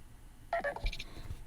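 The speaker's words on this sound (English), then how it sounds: "That's just a notification." A Nothing Phone 3 notification chime plays as a brief cluster of bright electronic tones, faint and quick over a quiet background.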